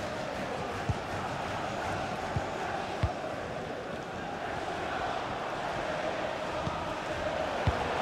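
A FIFA 21 stadium crowd at a Liverpool vs Chelsea Premier League match gives a steady, distant roar that holds level throughout, with a few soft thumps rising briefly above it.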